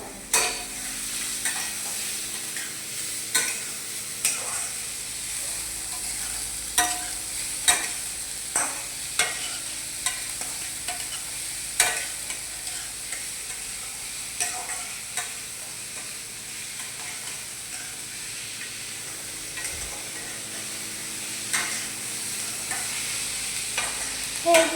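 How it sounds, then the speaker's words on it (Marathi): Cumin seeds and onion sautéing in a hot pan for an Indian bhaji, a continuous close sizzle broken by frequent sharp scrapes and clacks of a stirring spoon at an uneven rhythm. "जिरं टाकायचं आणि मग कांदा, मग त्याला परतून घ्यायचं."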